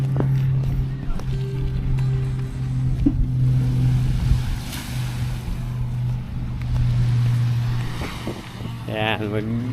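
A motorboat engine drones steadily on the water near Mariveles, Bataan, with a low, humming pitch, waves and wind around it, and voices talking faintly over it.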